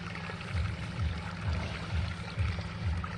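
Irrigation water on a farm flowing and pouring steadily in a continuous rushing stream, with a low rhythmic gurgle underneath.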